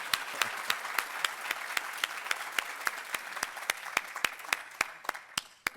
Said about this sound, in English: That deserves a big applause